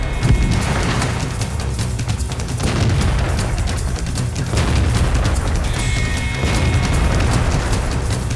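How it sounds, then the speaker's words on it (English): A Škoda T50 tank in World of Tanks firing its autoloader amid the dense, loud rumble of battle, with booming shots and bursts blended into a continuous roar of gunfire and explosions. "Hillary takes the high ground in the east and puts the autoloader to work."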